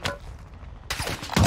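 A burst of gunfire rings out in an online shooter game, a sniper taking a player down, sharp and loud against game noise with a second heavy blast right at the end.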